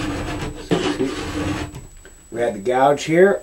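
Metal file rasping along the steel edge near the tip of a new ski, rough scraping strokes up close, then someone speaks briefly.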